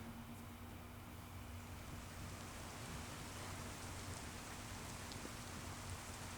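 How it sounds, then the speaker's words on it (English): Subtle rain at blue hour layered into a wedding film: a soft, steady hiss of falling rain with a faint low hum beneath, even and unbroken throughout. "Rain. Very subtle, right?"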